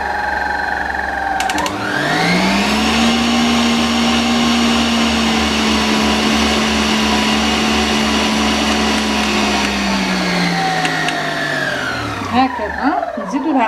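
Electric mixer whirring steadily through birthday cake batter, with a rising spin-up at the start, a long sustained motor drone, then a winding down near the end; loud and close with no talk over it.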